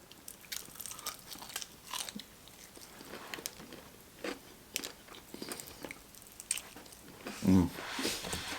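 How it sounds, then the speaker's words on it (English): Crunchy bites into Popeyes fried chicken, a scatter of close, sharp crackling bites and chewing spread through the stretch, with one louder crunch near the end. "it had a nice crunch to it"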